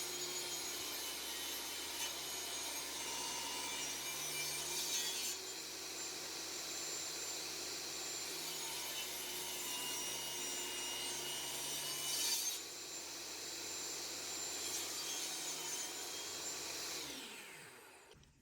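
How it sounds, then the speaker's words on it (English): A table saw slices a wooden block in half for a homemade knob, a steady loud whine with the blade load shifting around 5 and 12 seconds, then spinning down at the end. "I'm going to cut this in half on the table saw"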